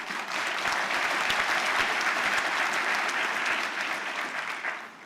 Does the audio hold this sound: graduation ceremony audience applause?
yes